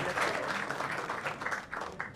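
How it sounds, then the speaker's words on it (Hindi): An audience on a comedy talent show applauds steadily, a dense wash of many hands clapping that holds at an even level for the whole stretch, with voices faintly mixed in. "एक बार जोर तालियां फॉर भव्य शाह एवरीवन."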